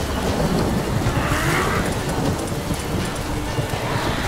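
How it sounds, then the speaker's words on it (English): Steady heavy rain with a rolling low rumble of thunder in a Witcher 3 storm, a dense, continuous wash of noise throughout with no pauses. "The storm."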